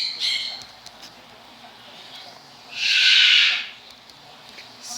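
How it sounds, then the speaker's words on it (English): Pet birds indoors let out two loud, shrill screaming bursts: a short one at the start and a longer one midway, with quiet room noise between them. "And hopefully my birds don't scream for the entire thing!"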